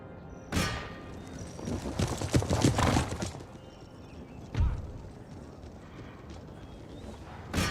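Cavalry horses gallop in the video game Empire: Total War, heard as loud hoof clatter and thumping with rumbling battle noise, the densest burst in the middle and sharp heavy impacts near the start and later.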